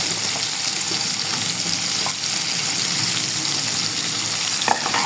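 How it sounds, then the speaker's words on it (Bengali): Okra sizzles and fries steadily in a hot pan for a shrimp and okra curry, a continuous dense crackle with occasional stirring scrapes and no talking. "এখন আমি ঢ্যাঁড়সগুলো এখানে দিয়ে দিব"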